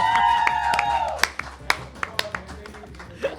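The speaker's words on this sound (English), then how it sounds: "Huge round of applause." Audience members at a Bollywood quiz game show clap in a sparse scattering of claps after a vocal cheer at the start, fairly close and modest in volume.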